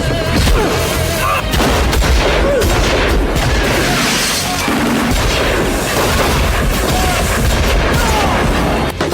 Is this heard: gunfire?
yes